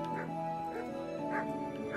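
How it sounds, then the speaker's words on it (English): A dog barks and yips in short repeated bursts, fairly close, over a steady musical background. "Ah, dog."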